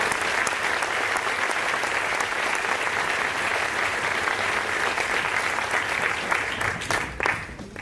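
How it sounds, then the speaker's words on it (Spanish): Audience applause at a live TEDx-style talk event: loud, dense clapping from a large crowd filling the room continuously, tapering slightly near the end. "Les pido por favor un aplauso."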